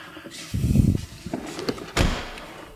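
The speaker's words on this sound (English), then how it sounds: "Even the sound of the doors." Supercar doors at a dealership: a heavy door swings and thuds, then smaller clicks of latches and handles follow, ending with a solid close, near and loud with no talk.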